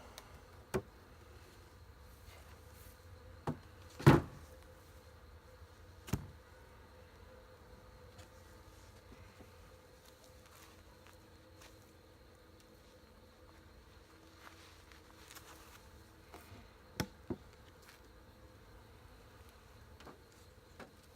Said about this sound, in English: Let's add us some bees to this here hive.